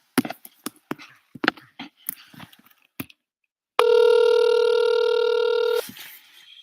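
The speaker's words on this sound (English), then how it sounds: "It's ringing." A steady electronic telephone ring tone holds for about two seconds, loud and close, after a run of irregular clicks and taps from dialing a phone; a brief knock follows.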